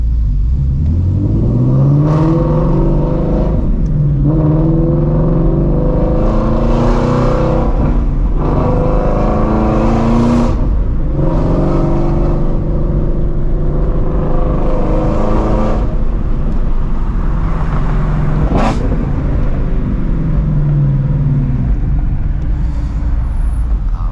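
A Shelby GT350 running on E85 fuel cruises along the road from inside the cabin, its engine droning loud and steady with repeated rises in pitch as it accelerates through the gears, no one speaking.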